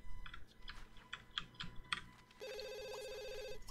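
An electronic phone ringtone in The Sims 2 starts partway through, a steady repeating trill rising over soft game sound effects and clicks.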